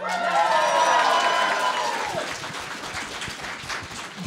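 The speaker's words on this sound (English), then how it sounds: "Applaud!" Audience applause at a Midwest Media Expo 2015 convention panel, a loud burst of clapping and crowd noise that swells at the start, then fades into thinner scattered claps while a voice and some whooping rise over it.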